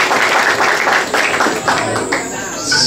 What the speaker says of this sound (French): ils méritent un gros applaudissement